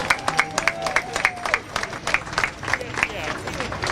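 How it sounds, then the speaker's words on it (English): A crowd of protesters at the NYC City Hall occupation demanding cuts to the NYPD claps steadily together in close, sharp bursts, with a murmur of voices underneath. "Give you guys a round of applause."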